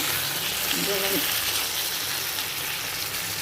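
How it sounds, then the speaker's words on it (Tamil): Mutton and onions sautéing in an iron kadai, a steady close sizzle with a brief metallic scraping near the start, fairly even throughout and without distinct voices. "வெங்காயம் உள்ளதோட வணங்கணுன்னு மட்டன் போட்டாச்சு"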